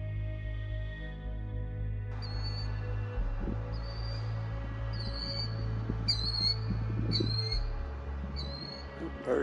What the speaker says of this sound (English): Yeah, birds was going nuts.